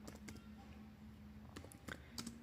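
Clicks of someone typing an HTML5 doctype line on a computer keyboard, scattered keystrokes in small bursts over a steady low hum, fairly close and moderately quiet.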